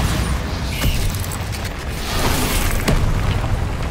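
In Hogwarts Legacy, a Bombarda spell explosion booms out in a heavy, rumbling blast with deep low thuds and a couple of sharp pops over a dense game soundscape.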